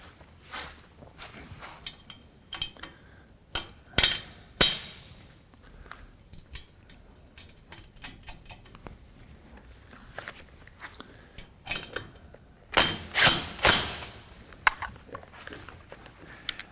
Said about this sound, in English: put them through the end and tighten them up